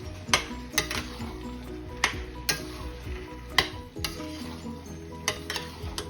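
Boiled chickpeas (chhole) stirred into a sizzling Delhi-style curry in a pan, with repeated spoon scrapes and clinks against the metal over a steady fry, close and fairly quiet.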